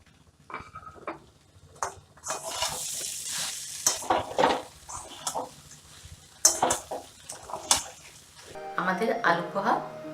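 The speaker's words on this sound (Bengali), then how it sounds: "ভাজা বাদামটা মিলিয়ে দেবো।" A spatula stirs fried peanuts and chopped coriander into aloo poha in a pan at home, making intermittent scraping and clattering bursts, with a voice heard briefly near the end.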